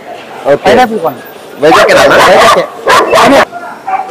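A Belgian Malinois (Dutch Shepherd type) barks at a KCI dog show at Gadiraju Palace, Vizag. Loud, close bursts of barking and yips come in clusters, with people talking nearby.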